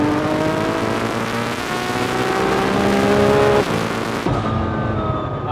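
A 1900-horsepower Nissan GT-R's engine revs hard and climbs in pitch under heavy acceleration on a street, loud and close, then shifts into fourth and keeps pulling.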